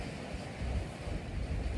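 Wind buffets across an exposed hiking ridgeline, a short, faint, steady rush with low gusty rumbling and no voices.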